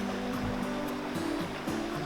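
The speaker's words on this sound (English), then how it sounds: "Beautiful creek." Cold creek water flowing at a campground in Conondale National Park, a steady close rushing babble with no voices.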